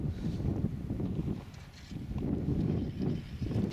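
Strong wind buffeting the microphone beside the Volga River near a ferry crossing, a steady low roar that surges and eases in gusts throughout, with no voices.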